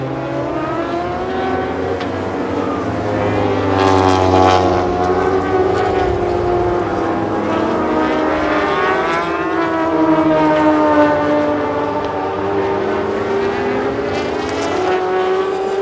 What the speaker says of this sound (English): race for fourth position between Stroyer and Kurtz and Delannoy and Rousseau